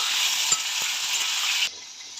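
Potatoes frying in a pan of oil, a bright steady sizzle with a couple of faint stirring taps, cutting off abruptly near the end.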